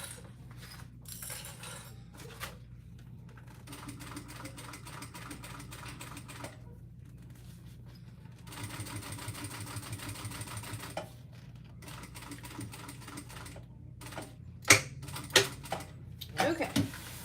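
A sewing machine stitches a bag seam in several quiet bursts of rapid mechanical clatter, separated by short pauses, with a few sharper taps near the end.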